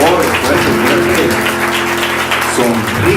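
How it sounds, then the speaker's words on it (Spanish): Church congregation applauding loudly and continuously, a dense wash of clapping with a sustained tone or music underneath, with no gaps throughout. "Un fuerte aplauso para el Señor."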